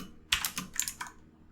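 Rapid keystrokes on a computer keyboard while entering PHP code for a Laravel ecommerce project: a close, crisp burst of taps followed by a few scattered keypresses, with no voices.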